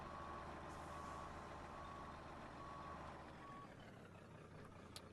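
A truck in Farming Simulator 17 fitted with the biggest engine, its reversing alarm beeping in a steady evenly spaced series over a constant low engine drone, faint and alone.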